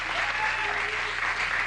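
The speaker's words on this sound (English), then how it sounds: "Yeah, you can applaud for your own city." A studio audience on a late-night talk show bursts into sustained applause, dense and steady clapping filling the room for nearly two seconds with no talk over it.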